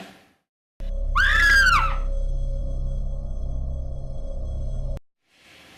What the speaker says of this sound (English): The sound pitch of the girls screaming further connotes although they are terrified, they are doing it for their own pleasure.